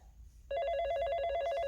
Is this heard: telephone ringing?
yes